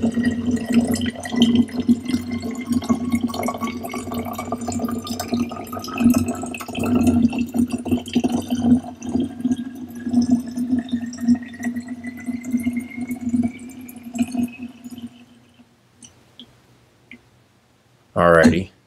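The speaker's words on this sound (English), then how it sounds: "you can add about another 150 milliliters of water into that bubbler" Water poured into the bubbler of an HBS10 hydrogen therapy device, a steady trickling fill with a rising pitch as the container fills, then it stops, followed by a brief clatter near the end.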